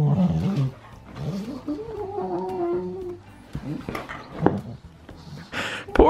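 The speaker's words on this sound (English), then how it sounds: "If anyone has a dog and your dog makes noises like this" A dog playing with a new puppy gives drawn-out whiny moans and low growls up close, followed by scuffling and a few sharp yips.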